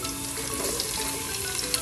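Garlic sautéing with ginger in a pan for Ilocano beef tripe soup: a steady, fairly soft sizzle of frying oil with faint crackles, continuous and close, no talking.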